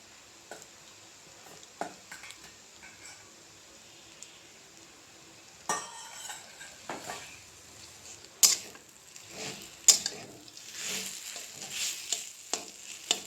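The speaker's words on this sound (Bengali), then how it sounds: "এইভাবে করে ভালোভাবে নাড়তে হবে" A taro curry with peanuts and fried potatoes being stirred in a pan, soft scraping and clinking strokes at irregular intervals over a faint background sizzle, close and without talk.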